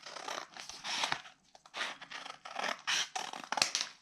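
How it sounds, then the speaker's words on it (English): Scissors snip through paper for a handmade ephemera wallet craft, a close series of crisp, uneven cutting crunches and rustles in quick bursts with short pauses between, no talking. "So I'm going to do this with my scissors."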